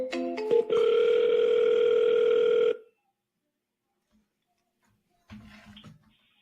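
A telephone dial tone hums steadily for about two seconds after a few short keypad beeps, then cuts off into silence before a faint ringback tone.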